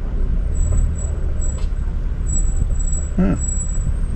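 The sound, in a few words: vehicle brake squeal in traffic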